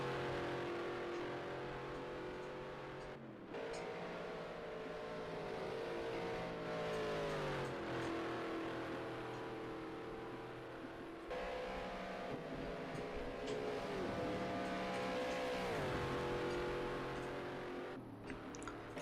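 Race cars lapping Road America in a racing video game, engines droning steadily with rising and falling pitch through gear changes and corners, loud and continuous with no talk.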